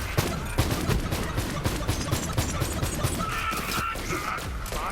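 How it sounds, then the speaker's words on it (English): Pistol fire in Borderlands 3, with rapid shots cracking at a steady clip over the ongoing game din, fairly loud and close. "Let's try clearing out this room with this stupid pistol."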